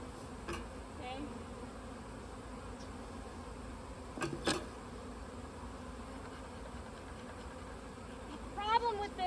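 A steady, dense hum of many honeybees buzzing close by, with a few brief knocks and a bee zipping past near the end.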